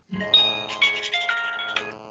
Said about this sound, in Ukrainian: Хтось, мабуть, телефонує, так?